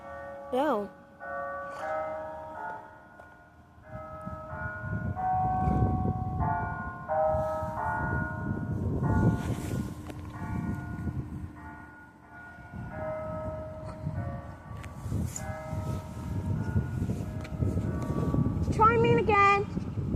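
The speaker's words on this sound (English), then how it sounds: "the bell chimes at 6 o'clock" St. Luke's Church bells chime in a slow, melodic sequence of clear ringing tones at six o'clock, heard at moderate distance over rumbling background noise and occasional voices.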